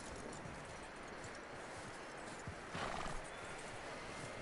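A horse in the Red Dead Redemption 2 video game neighs and clip-clops, with hoofbeats and a whinny over a hissing ambient background, quiet overall and slightly louder near the end.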